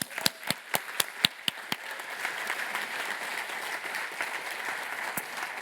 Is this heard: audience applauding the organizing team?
yes